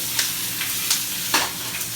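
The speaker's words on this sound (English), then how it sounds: "you want to make sure everything's in contact with the pan and getting roasted" Vegetables for salsa roasting in a hot pan, a constant crackling sizzle with several sharper pops and spits, close and fairly loud, no talking.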